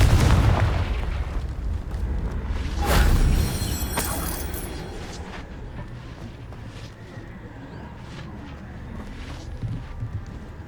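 Confringo blasting-spell explosions in Hogwarts Legacy, a heavy booming blast with rumbling low end near the start and a second burst around three seconds, then a fading debris-like tail and faint ambience.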